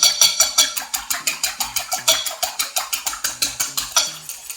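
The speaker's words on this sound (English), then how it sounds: "we're gonna just break the eggs. Mix the yolk with white" Eggs whisked briskly in a bowl, a fast regular clicking rhythm of utensil against the sides, about four to five strokes per second, close and loud.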